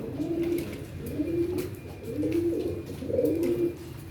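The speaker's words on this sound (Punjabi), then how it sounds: "ਇਹ ਵੱਡਾ ਕਬੂਤਰ ਸਾਡਾ ਟੈਡੀ।" Teddy pigeons coo nearby in a series of four low, rolling, evenly spaced calls over a faint background hiss, with no speech.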